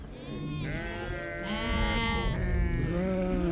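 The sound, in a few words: sheep bleating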